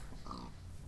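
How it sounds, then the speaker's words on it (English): A single short, faint pig grunt from a Minecraft pig, heard alone. "Kill this piggy as well."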